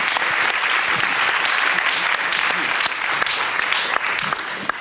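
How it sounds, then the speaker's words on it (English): A full round of applause from an audience at a library panel discussion, dense and continuous with occasional sharper claps, steady and fairly loud throughout. "Let's give them a round of applause."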